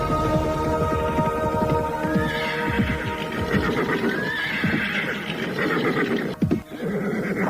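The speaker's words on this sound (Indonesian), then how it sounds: "nampak seseorang menunggang kuda putih dengan kencangnya" A white horse gallops with steady, rapid hoofbeats while neighing twice in rising whinnies over a dense, loud rumbling bed; no talking.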